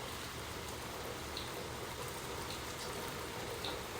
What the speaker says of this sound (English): So, today is a rainy day.